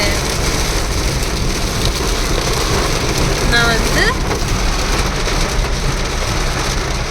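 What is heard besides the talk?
heavy rain falling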